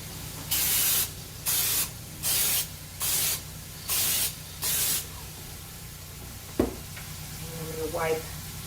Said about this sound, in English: So I'm going to give them a quick spray.